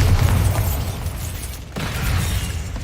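A Bombarda blasting spell detonates in the video game Hogwarts Legacy, making a loud, sustained explosive roar with a brief dip before the rumble and crackle return.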